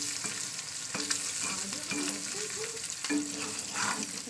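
An egg fries softly in a home kitchen pan with a quiet, continuous sizzle, broken by occasional scraping and stirring knocks from a spatula.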